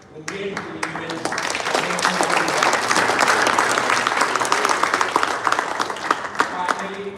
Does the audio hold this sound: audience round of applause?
yes